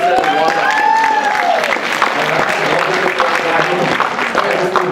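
An audience at a real estate seminar on short sales breaks into applause, steady clapping mixed with talking and shouting from the crowd.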